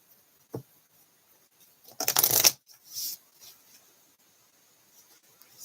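Hand-drawn cards are shuffled in a quiet room: a brief tap, then a dense riffling burst of card shuffling followed by a softer flick, with no talk.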